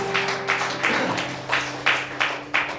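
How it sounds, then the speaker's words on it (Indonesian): Applause during a Sunday church service comes as a group claps in a steady slow rhythm, about two beats a second, moderately loud over a low hum. "Tepuk tangan dulu deh buat Tuhan."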